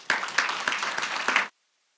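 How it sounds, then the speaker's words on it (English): Applause at a city council meeting: brief, fairly quiet clapping with a few distinct sharp claps, which stops abruptly after about a second and a half. "I would love to give them a big round of applause"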